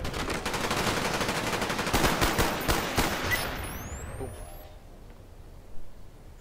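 Rapid automatic gunfire in the video game Call of Duty Black Ops, dense loud bursts for about three seconds that then trail off into quieter game ambience with a brief high whistling sweep.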